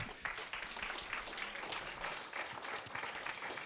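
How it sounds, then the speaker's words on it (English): An audience at a fellowship demo day gives a round of applause for the presenter Smooth, dense continuous clapping from a roomful of people, steady and fairly distant-sounding throughout. "One final round of applause again for Smooth"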